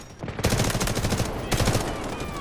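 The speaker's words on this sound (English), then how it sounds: "In terms of precision shooting, few do it better than the M4A1." Automatic M4A1 rifle fire in the shooter game Delta Force, two rapid bursts of sharp close shots with a brief gap between them, loud and punchy with no talking.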